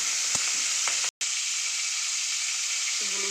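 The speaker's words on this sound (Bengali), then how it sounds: "চিংড়ি মাছটা ভেজে নিচ্ছি" Shrimp fry in hot oil with a loud, continuous close sizzle and hiss, broken by a brief pause and a few stirring clinks.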